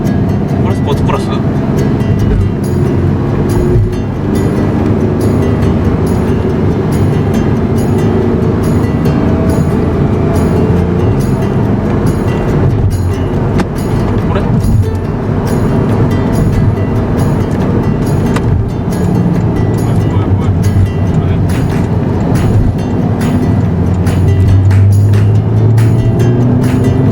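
A Porsche 911 Carrera of the 991 generation, rear-engined, drones steadily from behind while driving, a loud continuous engine and road roar, with people talking inside the car throughout.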